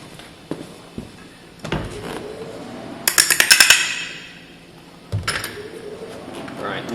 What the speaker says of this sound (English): It looks like we're going to have to hammer them in.